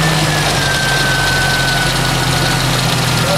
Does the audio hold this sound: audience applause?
no